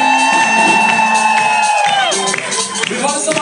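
Concert crowd at the Spectrum in Augsburg cheering, whooping and applauding loudly and steadily throughout, a dense wall of massed voices and claps with sustained tones ringing above it.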